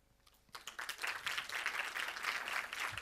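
Audience at a TEDx talk at AUEB bursts into applause, swelling quickly from near silence into sustained, dense clapping from a crowd that holds steady to the end.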